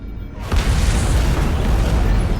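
An antimatter charge detonates aboard a ship in a Halo: Combat Evolved Anniversary cutscene: a sudden loud boom after a short lead-in, then a heavy, sustained rumbling roar that holds for the rest of the clip.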